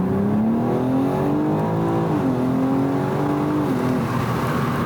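A BMW M4 launching with launch control, its engine note climbing steadily in pitch through close, loud acceleration with a brief dip as it shifts, no talk over it.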